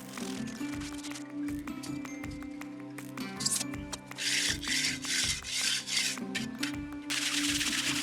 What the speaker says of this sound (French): On a tout de même taloché la surface à la fin du travail